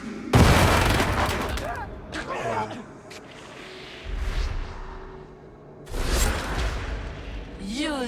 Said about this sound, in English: Grenades can be equipped and thrown